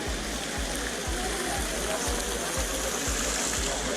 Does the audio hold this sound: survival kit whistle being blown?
no